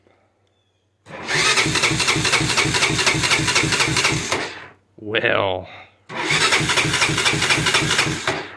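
An abandoned Honda Fourtrax ATV engine cranks on its starter in two long whirring bursts, loud and close, with a short spoken word between them.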